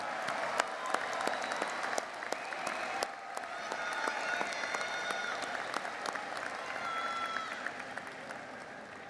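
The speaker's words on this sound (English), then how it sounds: "We applaud you for a job well done." A large audience at a university commencement ceremony applauds the graduates steadily, a dense wash of clapping that holds at an even level throughout.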